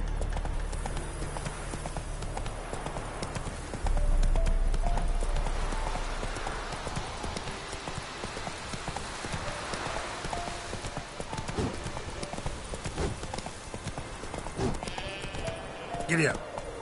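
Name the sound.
horse galloping hooves in video game The Witcher 3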